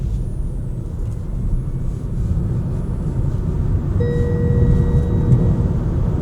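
A 2025 Tesla Model Y Long Range AWD, a 1992 kg electric SUV, accelerates from rest with a steady low road-and-tyre rumble that swells, joined partway through by a thin rising electric-motor whine.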